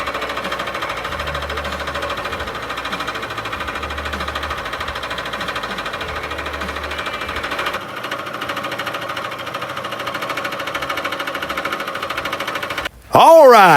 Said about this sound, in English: when you're milling pockets on a Bridgeport milling machine